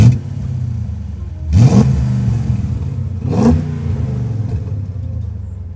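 A BMW Z8 with its exhaust valve held open idles with a deep, steady burble, then barks through two sharp throttle blips about two seconds apart, each quickly falling back to idle.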